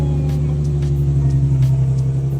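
Infiniti G37 coupe with a manual transmission holding a loud, steady low engine rumble, close by, with faint ticking on top and no clear surge.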